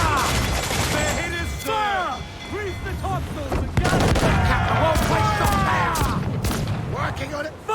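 Ship cannons fire in Assassin's Creed IV: Black Flag, booming volleys mixed with crashes and rushing sea noise, while voices shout orders over the battle.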